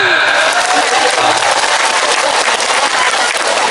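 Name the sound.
audience applause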